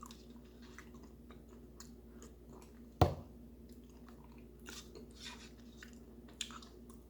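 Someone chews Danish yogurt mixed with walnuts, soft wet squishes and faint crunches close to the mic, with one sharp knock midway and a few small clicks of a spoon.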